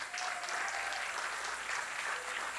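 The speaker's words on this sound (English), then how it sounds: "Clap for yourselves" A senior variety show audience breaks into dense, steady applause, a continuous wash of many hands clapping at moderate level with no voices standing out.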